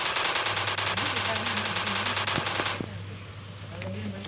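Rapid automatic AK-47 fire from a military video game: a dense, loud stream of shots for about three seconds over a steady electronic hum, then quieter game ambience, with a voice talking over it.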